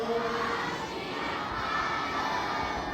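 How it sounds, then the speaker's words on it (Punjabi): A crowd at a Sikh turban-tying competition shouts a loud, sustained collective response, a dense wall of voices including children's, lasting the full few seconds with no pause. "ਇਹਦੇ ਲਈ ਇੱਕ ਜਕਾਰਾ ਬੋਲੇ ਸੋ ਨਿਹਾਲ"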